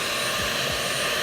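A Dyson V12s Detect Slim Submarine wet-and-dry vacuum cleaner with a Fluffy Optic head runs with a steady, loud, full-band whooshing roar of motor and airflow, continuous and unbroken for the whole moment.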